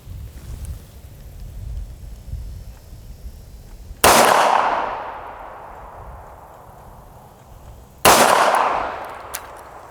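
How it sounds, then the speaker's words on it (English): Two sharp gunshots on an outdoor shooting range at 50 yards, each a loud crack with a long fading echo, spaced about four seconds apart over faint wind and low rumble. "we got 8 total shots"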